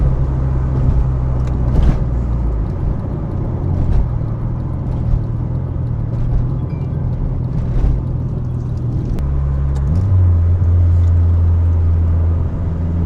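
Steady, loud low engine drone and road rumble from a turbocharged Honda Civic with no tune during a 0 to 60 acceleration run. The pitch holds, then shifts sharply near ten seconds, suggesting a gear change, with no talking.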